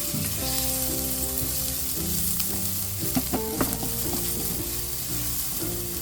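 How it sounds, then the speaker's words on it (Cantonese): Ginger, garlic and shallots sizzle and crackle in a hot wok as they are stir-fried, with scraping stirs and steady frying hiss close by and no voices. "爆香呢啲薑蓉、"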